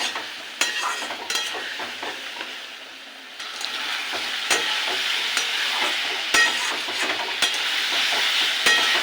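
Spice paste for a vegetarian doi gathi dish being stirred and fried in oil with a little sugar: constant close sizzle broken by sharp scrapes and clinks of a spoon against the pan, no talking.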